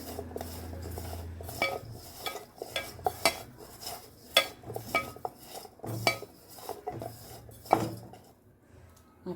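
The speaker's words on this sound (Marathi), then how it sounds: "धाना पावडर गरम मसाला हा टाकून मी चांगले मिक्स करून घेणार" A spoon scrapes and clinks against a metal pan as bitter gourd (karela) is mixed with red chilli powder, coriander powder and garam masala for a crispy fry, with irregular knocks and scrapes standing out close up.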